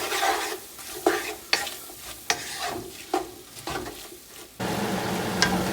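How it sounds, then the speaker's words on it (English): Vegetables stirred into a roux in a pot over medium heat for chicken and sausage gumbo, a spoon scraping in about six steady strokes over a sizzle that swells louder near the end. "Mixing these veggies with that roux for about 5 minutes or so."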